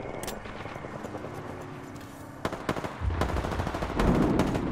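Rapid automatic gunfire from a video game, bursts of sharp shots in quick succession that grow denser and louder toward the end, over a low background rumble.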